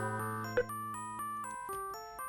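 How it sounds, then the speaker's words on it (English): A sustained chiming doorbell tone in the video game Dark Seed steps through a short descending melody, clear and alone with a soft knock partway through. "that was our doorbell ringing"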